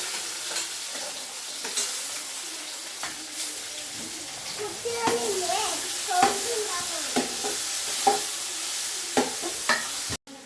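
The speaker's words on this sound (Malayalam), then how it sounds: "നമുക്ക് ഉള്ളി ഒന്ന് വിടാം ഇളക്കി വിടാം" Chopped big onions fry and sizzle in a pan for a home-style chicken curry, with a steady frying hiss under repeated scraping stirs of a spoon, close and moderately loud, then a sudden cutoff at the end.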